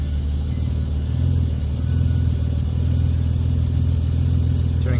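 A car engine idles steadily with its AC compressor pump switched on, a close, even low rumble that holds throughout with no talking.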